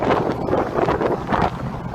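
Strong wind buffets the microphone outdoors at a junior cross country race, a steady roaring rumble with gusty swells and no voices.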